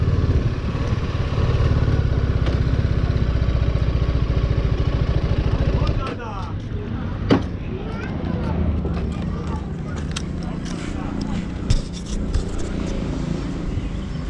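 A TVS Apache RR310 300cc motorcycle engine drones steadily at first, then fades to a lower rumble with clatter, wind and occasional bumps as the ride continues.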